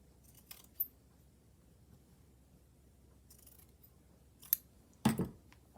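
Scissors make a few quiet, crisp snips through fabric for a lace-and-trim fabric journal, isolated clicks spread over a near-silent background with a sharper cut near the end.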